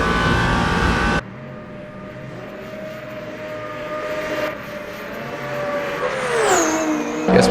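Simulated GT3 Mustang race car in Le Mans Ultimate, running on the Mulsanne Straight at the Le Mans 24 Hours before sliding into gravel: a steady engine drone that climbs in pitch near the end, with a loud burst at the start.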